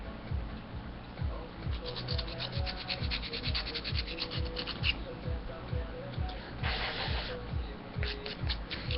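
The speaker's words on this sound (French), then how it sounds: "vous avez un lime à ongles qui sert à limer les ongles" A nail file rasping back and forth across fingernails in steady, rhythmic strokes, close and continuous, with a faint hiss between passes.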